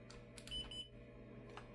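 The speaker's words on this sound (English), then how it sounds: "Then you're going to want to pull the trigger once until you'll hear the beep." An X-Shot Pro motorized piston-pump Nerf blaster gives a short, faint electronic beep, quiet and close, with a few light clicks of handling around it and no talk.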